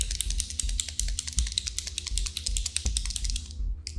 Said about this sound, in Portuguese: Então a gente agita bem.